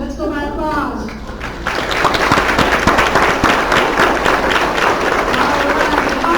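Audience applause votes in a nonprofit workshop pitch competition: after a voice speaks, a crowd breaks into loud, dense clapping mixed with cheers that continues steadily to the end.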